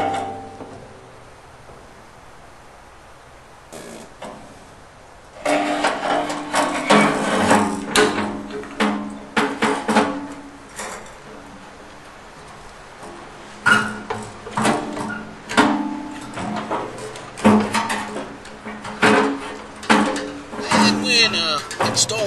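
A burner assembly is slid into a Bradford White gas water heater with scraping and knocking metal sounds, a series of close, irregular clunks and rubs that comes in after a quiet start, while someone talks.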